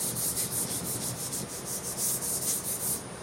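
Sandpaper of 320 grit rubbing back and forth over a metal lathe bed, a close, steady rhythmic scratching with about a dozen even strokes and no voices.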